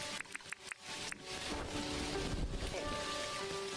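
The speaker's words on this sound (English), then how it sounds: "Oh, it's raining." Steady rainfall in the farming game Dinkum, a continuous hiss of rain that sets in after a few short clicking interface sounds and keeps going at an even level, with no one talking.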